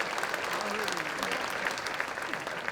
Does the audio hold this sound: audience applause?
yes